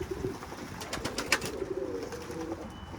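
Pigeons flown outdoors in a windstorm coo faintly, with a few soft wing flutters and clicks over a steady rush of wind.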